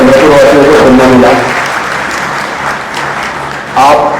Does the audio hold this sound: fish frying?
no